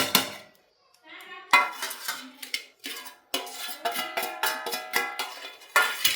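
A spoon scrapes and clinks against a metal bowl while idli batter with cumin and salt is stirred, giving irregular bursts of close, bright clatter with short pauses.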